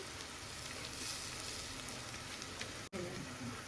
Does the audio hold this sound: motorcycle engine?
no